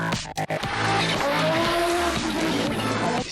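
An Audi Quattro race car drives hard with a loud engine roar, while tires squeal in a sustained, rising screech partway through; there is no talking.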